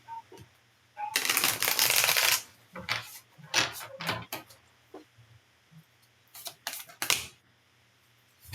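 Advice cards for a card reading are shuffled in quick close bursts of flicking and riffling, with a long shuffle followed by shorter snaps and taps in a quiet room.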